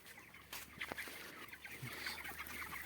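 Broiler chickens cluck and murmur in a farm shed in Assam, a faint, busy flock with scattered short calls and clucks overlapping against a low background of shuffling and rustle.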